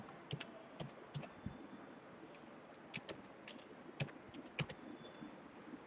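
Python code is typed on a computer keyboard in a quiet room, with soft, scattered key clicks arriving in short irregular bursts over a faint background hiss.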